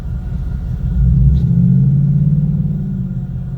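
Supercharged Pontiac GXP cars rumble at a car show in a closed-off town street, a steady low engine drone that swells after the first second and holds fairly loud to the end, with no talk.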